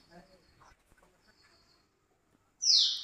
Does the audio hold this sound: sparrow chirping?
yes